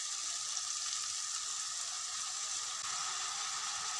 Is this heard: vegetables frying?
yes